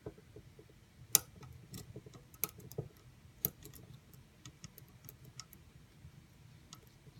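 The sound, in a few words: lock pin setting with a click while lock picking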